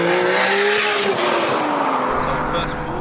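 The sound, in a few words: 800 bhp Nissan Skyline R34 GTR accelerating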